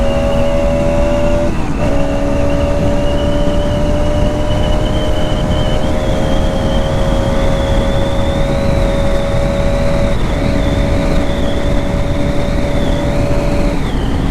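Bajaj RS 200 motorcycle, 2025 edition, engine droning at steady high revs while riding, a loud continuous tone with a slowly rising pitch and brief shift dips, wind noise underneath.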